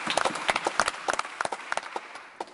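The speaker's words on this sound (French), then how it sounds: "on devrait les applaudir pour ça d'ailleurs" Scattered hand clapping in the House of Commons, a sparse run of individual claps at an uneven rhythm that thins out toward the end, moderately close.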